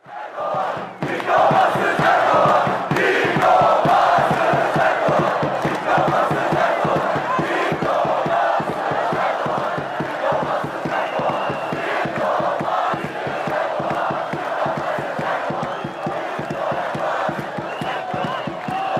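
A large crowd at a political rally chants a rhythmic slogan about Erdoğan's diploma in unison, loud and sustained with a steady pulsing beat of repeated shouts.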